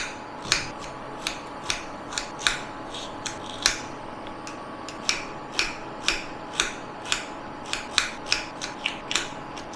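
A knife slicing onion thinly for a Bengali prawn and mixed vegetable curry, with quick repeated crisp cuts in an uneven rhythm, close and clear.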